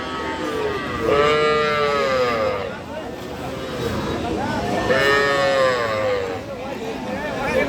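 Young bull calves call out twice in drawn-out bleating cries over a busy background of murmuring voices and bustle at Aftabganj cattle market.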